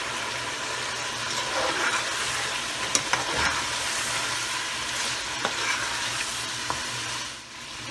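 Dry garam masala and spices being stirred into frying biryani masala in a pan, a steady close sizzle with soft scraping stirs and occasional light clinks, no voice over it.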